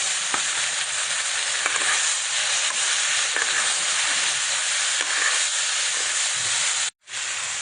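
Vegetables fry in a pan with a loud, steady sizzle and hiss and faint stirring scrapes, continuing close and constant until a brief break near the end.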